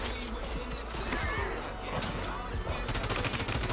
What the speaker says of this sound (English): Why are you using the shotgun?